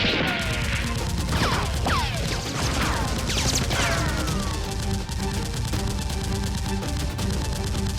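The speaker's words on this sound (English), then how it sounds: "Tony quickly dodged and fired back at Dr. Lee." Gunfire in a Nerf battle with SWAT and a demon boss mask, rapid bursts of shots and sharp cracks over a constant background din, loud and close throughout.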